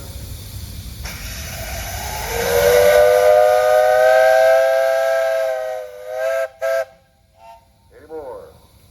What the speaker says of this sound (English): Hey guys, you got a whistle up there.